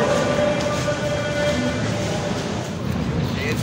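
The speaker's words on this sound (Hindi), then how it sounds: "Metro station Minar Pakistan." Metro train at Minar-e-Pakistan station in Lahore, a loud continuous rumble with a steady whine from the moving train, while people talk in the background.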